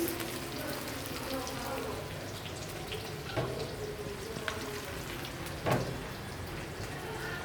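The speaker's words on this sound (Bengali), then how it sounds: "আমরা এখন পেঁয়াজ দিচ্ছি, একে একে সব দিব। এই যে পেঁয়াজ বাটা দিলাম" Onion paste hitting a hot pan for an egg curry (dim bhuna), giving a steady broadband sizzle and crackle throughout, with a few sharper spits and pops along the way.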